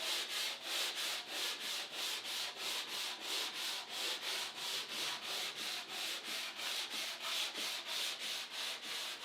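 Hand sanding of the wooden cabinet of a Singer 301A sewing machine, going with the grain in steady rhythmic back-and-forth strokes, about two per second, close and alone.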